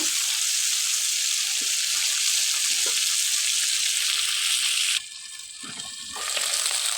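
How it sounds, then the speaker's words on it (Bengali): Rohu fish heads frying in a pan of oil until reddened, a loud continuous crackling sizzle that suddenly drops quieter midway before rising again, close with no talking. "লাল লাল করে মাথা মাথাগুলো ভেজে নেব"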